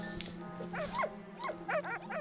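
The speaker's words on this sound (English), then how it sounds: "They're barking at me." Dogs in a video game bark in short yelping bursts over a steady low electronic hum, several barks in quick clusters, fairly faint and without talk.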